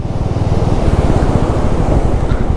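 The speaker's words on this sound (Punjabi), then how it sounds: "ਕੀ ਪਾਣੀ ਦਾ ਫਲੋ ਆ" Fast water in a mountain stream under a broken bridge on the Kishtwar to Killar route gives a loud, steady roar, with broad rushing noise and wind buffeting the microphone.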